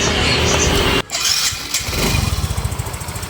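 A rebuilt Yamaha Mio M3 scooter engine cranks with a loud rush, catches after a brief gap and settles into a close, rapid, pulsing idle with a slight ticking from loose valve clearance.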